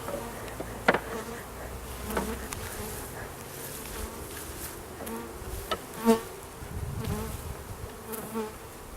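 Bees buzz steadily around a top bar hive, a dense droning swarm close by with individual insects swelling louder as they pass.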